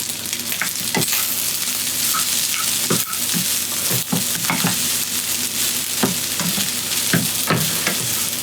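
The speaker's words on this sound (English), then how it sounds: "Got some salt, some pepper, some garlic. Powdered garlic." Beef fried rice sizzles in a small pan with salt, pepper and garlic powder, a constant frying hiss broken by repeated scrapes and knocks of stirring close up, with no talking.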